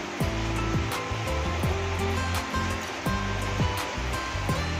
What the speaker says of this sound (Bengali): পরিমাপ মতো জল এখানে আমি অ্যাড করে দেবো।